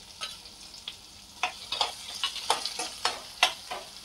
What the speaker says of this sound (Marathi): आता कापलेला कांदा घालून घेऊ.